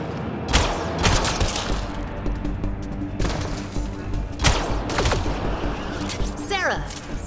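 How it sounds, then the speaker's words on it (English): Gunfire in a combat firefight in Mass Effect Andromeda: loud bursts of shots with sharp impacts, spread over several seconds with game effects and voices in between. "Sarah, shoot them!"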